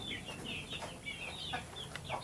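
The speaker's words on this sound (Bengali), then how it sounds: "এটা তো সেই দেশি মুরগি।" Desi chickens kept indoors cluck and call in soft, broken bursts over a steady background hiss, fairly faint and without talk.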